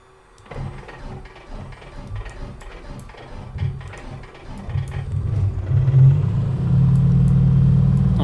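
Piper Comanche 250 engine starting in Microsoft Flight Simulator: clicking and cranking sputters build over several seconds into a loud, steady engine drone.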